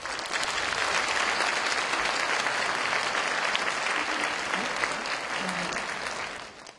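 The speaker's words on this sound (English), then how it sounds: "Please welcome each of them with a warm round of applause." An audience in a hall gives sustained, even applause welcoming distinguished guests, a dense wash of clapping that holds steady before fading at the end.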